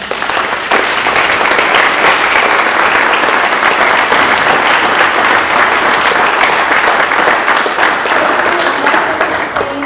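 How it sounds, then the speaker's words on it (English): A summit audience in Spokane gives its panelists a full round of applause, dense and loud clapping that holds steady for about ten seconds with no talk over it. "Can we give our panelists a round of applause?"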